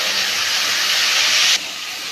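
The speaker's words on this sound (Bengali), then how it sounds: "দেখুন এখানে দিচ্ছি হচ্ছে পেঁয়াজ আর লঙ্কা বাটা।" Onion and chili paste hitting hot oil already seasoned with cinnamon, cardamom and cloves for a prawn malai curry, a loud steady hiss of sizzling that drops abruptly to a quieter frying sizzle near the end, no talk.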